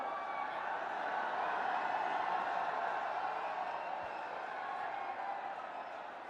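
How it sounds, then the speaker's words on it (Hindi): A large crowd at a public rally in Kotputli claps to welcome Prime Minister Narendra Modi. The applause is a steady, continuous wash that sounds somewhat distant and holds evenly throughout, with no clear speech. "सब लोग खड़े होकर स्वागत करेंगे तालियों के द्वारा"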